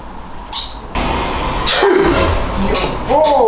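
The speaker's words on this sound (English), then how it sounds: "someone sneezing on me" A person sneezes in a busy barber shop, a couple of sharp bursts close by amid chatter and shop noise, with voices talking through the clip.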